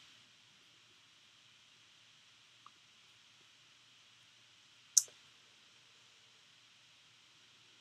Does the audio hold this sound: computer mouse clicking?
yes